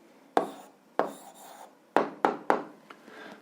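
A pen writes down an algebra answer on paper: quiet, close strokes and scratches in short bursts, five or six distinct marks spaced irregularly, with no talk.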